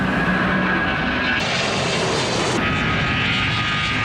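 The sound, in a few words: aircraft noise at Heathrow Airport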